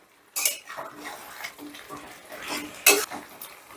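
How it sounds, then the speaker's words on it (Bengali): Chicken curry stirred in a pot with a metal spoon: two loud clanks against the pot rim stand out over quieter scraping and a faint simmer. "বেশ ভালো করে মিশিয়ে নিয়েছি"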